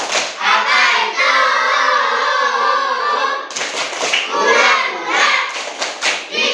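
Standing classroom children perform a rhythmic clapping chant routine, voices chanting together in short bursts broken by sharp group claps that quicken toward the end.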